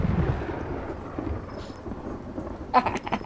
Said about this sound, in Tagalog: Uy, bumabagyo.